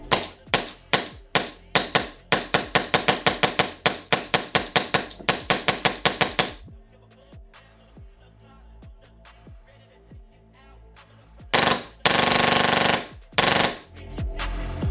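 An airsoft gun with a Nexxus HPA gearbox on compressed air fires rapid sharp pops in quick bursts, then single shots with quiet hiss between, close and loud.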